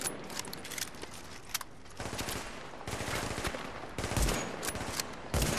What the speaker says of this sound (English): They're shooting at nothing.